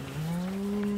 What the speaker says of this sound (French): Un troupeau de vaches.